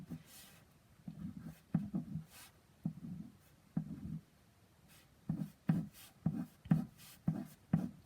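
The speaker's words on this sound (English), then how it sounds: "I'm going to just write it down here so I have more space so you guys can see." Pen strokes scratch across a surface in short, separated scribbling bursts while chemistry working is written out by hand, close and soft, with a few brief pauses between strokes.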